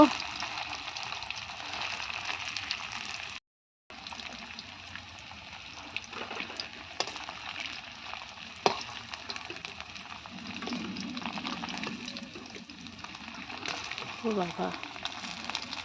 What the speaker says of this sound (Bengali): তো দেখতে পাচ্ছেন এগুলোকে সমস্ত আমি ভেজে নিচ্ছি এইভাবে একটু লাল লাল কালার হয়েছে